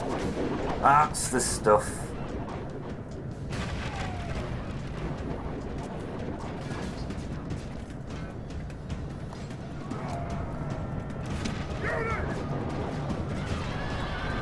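Artillery fire in the strategy game Rome: Total War: a couple of booming volleys early on, then a steady rumble of battle noise, with someone talking over it throughout.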